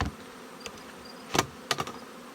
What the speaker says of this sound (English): The rest of the bees go back in.